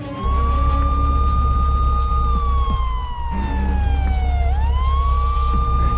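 Police car siren in an animated Hindi story, a loud wailing tone that holds, slowly falls, then sweeps back up over a steady engine rumble, with no talking.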